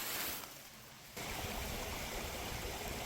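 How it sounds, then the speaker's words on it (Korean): An icy mountain stream on Cheonmasan in Namyangju trickles in March, a steady soft wash of running water that dips briefly then resumes, with no talking. "제가 물 졸졸졸 흐르는 얼음 계곡으로 왔습니다"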